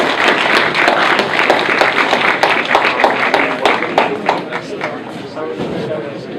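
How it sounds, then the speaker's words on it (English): A crowd applauds steadily, many hands clapping together in a dense, sustained burst that tapers slightly toward the end. "One round of applause for the professors."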